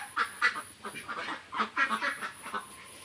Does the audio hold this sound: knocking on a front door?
no